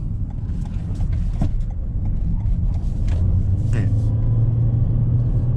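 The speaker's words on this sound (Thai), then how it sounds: "ผมลอง กลับรถตรงนี้แล้วลองเร่งให้ดู" Toyota Corolla Cross Hybrid pulling away after a U-turn on a real road, a steady low engine and road rumble building from inside the cabin, with someone talking over it.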